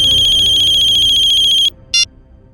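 A phone ringtone plays loudly as a steady, rapidly pulsing electronic tone that cuts off abruptly, followed by one short beep after a brief pause, with no talking.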